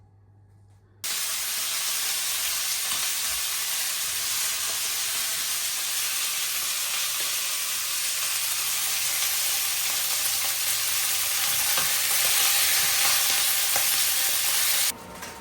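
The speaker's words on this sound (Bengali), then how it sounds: "মাছটা আগে ভাজি" Fish sizzles in hot oil in a kadai, starting abruptly after a quiet second into a loud, unbroken hissing crackle that runs close by for most of the clip before dropping off near the end.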